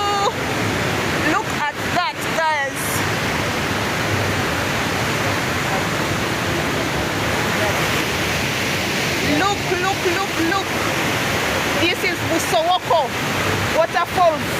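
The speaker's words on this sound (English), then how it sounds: "waterfalls here in Jinja." Busowoko waterfall rapids in Jinja roar as a loud, constant rush of tumbling water, with a person's voice breaking in over the torrent near the start and again toward the end.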